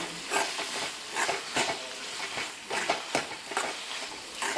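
Tomato curry with turmeric and pepper powder being stirred in a pan: rhythmic scraping strokes repeat about every half second over a soft sizzling hiss, close and moderately loud, with no voices.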